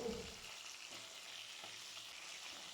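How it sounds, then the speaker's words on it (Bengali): Fish frying in oil in a pan, a soft steady sizzle that is faint and continuous, with no voices. "মাছের এক পিঠ ভাজা হয়ে গেছে প্রত্যেকটা মাছ আমি উল্টে নিলাম"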